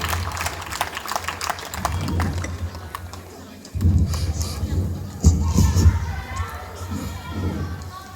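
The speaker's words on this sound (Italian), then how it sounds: "Un applauso agli attori che sono molto emozionati." After a local theatre comedy, the audience applauds and cheers the actors: loud clapping swells in waves, with shouts, whoops and children's voices rising over a crowd babble.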